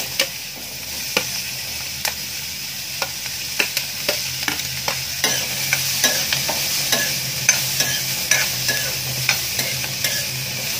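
Chopped onions tip into a hot frying pan with cloves and jaluk peppercorns and are stirred steadily, a continuous sizzle broken by regular spoon-on-pan clicks and scrapes, close and loud with no talking.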